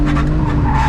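Budget drift car, a roughly £2000 build, sliding sideways with loud continuous tire squeal and engine drone, close and steady for a second with no talk.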